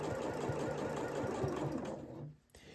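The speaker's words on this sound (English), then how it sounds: "And then I am going to go ahead and I'm stitching." A sewing machine runs in quick, even stitching bursts along a coat seam, a close mechanical whirr with regular thumping rhythm that stops abruptly near the end.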